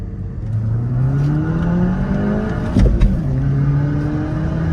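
A Skoda Laura and a Mercedes C200, both stage 1 tuned, accelerate hard side by side in a rolling drag race, with loud, close engine drones rising in pitch through gear changes and a brief louder burst midway.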